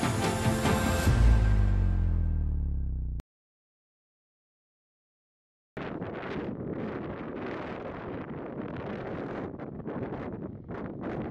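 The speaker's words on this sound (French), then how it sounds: "ça y est, grosse pluie, gros vent." Heavy wind with heavy rain buffets and roars against the microphone in gusts on a mountain trail in the Vanoise, after a brief silence, loud and close.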